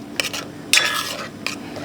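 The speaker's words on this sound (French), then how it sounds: "essaye un maximum d'écraser avec ma cuillère" Close, fairly loud metal spoon scrapes and wet squishes as raspberries are crushed in a bowl for a panna cotta topping, coming in a few separate strokes with no talking.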